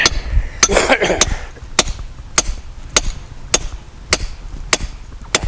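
Hammer driving a steel chisel into rock at a crystal pocket, a steady series of sharp, ringing metallic strikes about every half second, close and loud, with a brief scraping rattle near the start.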